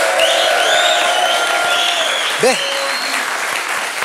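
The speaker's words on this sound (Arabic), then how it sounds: "بالله صفقوا على روحكم" A studio audience at a televised talent-show casting claps steadily and loudly throughout, with a presenter speaking over it and a brief vocal sound midway.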